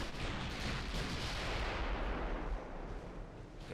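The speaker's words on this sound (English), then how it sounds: "first salvo out into enemy heavy cruiser" Naval artillery salvo in a video game, fired at an enemy heavy cruiser: a deep, rumbling roar of heavy guns that fills the moment and fades slightly toward the end, with no voices.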